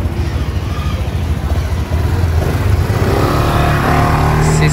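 A 250cc Arctic Chief maxi scooter engine running close by with a low, throaty drone that swells as the revs rise toward the end, loud and continuous, with no speech over it.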